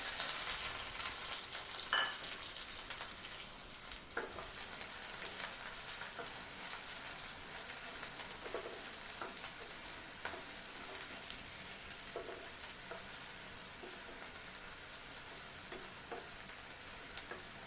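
Finely chopped onion frying in oil with mustard seeds and curry leaves for a fenugreek greens stir-fry, making a soft, continuous sizzle with occasional faint clicks and stirring.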